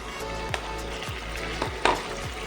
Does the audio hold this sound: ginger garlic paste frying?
yes